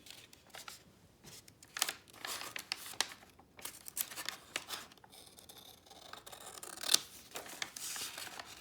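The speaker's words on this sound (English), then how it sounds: "Again, the longer strokes that the scissors will tolerate." Scissors trimming the paper edge of an old law book with marbled covers, a series of soft, irregular snipping and rustling strokes, close and quiet, with occasional brief louder cuts.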